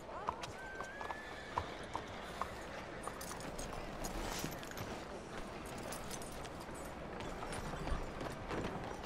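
Horse hooves clip-clop steadily in Red Dead Redemption 2 as the horse arrives in town, with a whinny and faint background murmur under the rhythmic footfalls.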